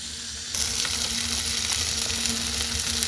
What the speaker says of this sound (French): Vous voyez, le lard commence à griller.